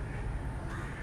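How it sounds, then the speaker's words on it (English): Birds, apparently crows, call outside a hotel room in Goa among palm trees, their harsh cawing steady and fairly close over a continuous hiss of outdoor background noise. "The birds are chirping away."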